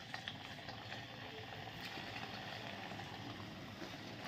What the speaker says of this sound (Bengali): দেখি এখন এগুলো তেলের মধ্যে দিয়ে দিচ্ছি।